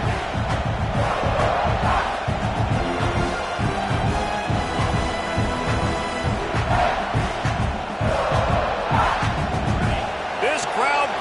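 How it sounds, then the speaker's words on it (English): A home stadium crowd at a college football game roaring and cheering continuously, loud and dense, with a commentator talking over it. "This crowd bringing the energy and noise early."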